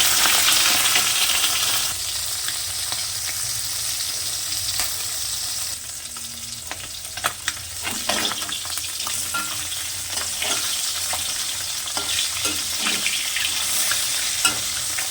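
Small tengra fish frying in hot oil over a lowered gas flame, giving a steady, dense sizzle throughout with occasional sharper crackles and spatters, close and without speech.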